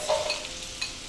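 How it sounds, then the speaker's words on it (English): Chopped onions, carrots and celery stirred in a soup pot, a short close scrape and light sizzle with a couple of soft knocks, heard alone without speech. "I'm just going to give this a stir."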